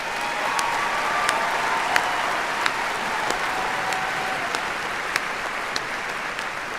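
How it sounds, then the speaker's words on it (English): Graduates at a university commencement ceremony receive a sustained round of applause from a large crowd, a steady wash of clapping with a few sharper individual claps standing out. "Let's give you another round of applause."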